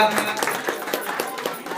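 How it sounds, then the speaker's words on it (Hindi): A village government outreach event in Jharkhand, where a crowd applauds to welcome the MLA, with a brisk run of close claps and a voice over the top. "जोरदार तालियों से स्वागत हो"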